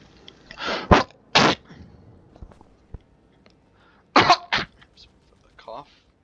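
A man coughs in short, harsh bursts close to the microphone, first a quick pair, then a single one, and after a quiet stretch another tight cluster of two or three, with faint noises in between.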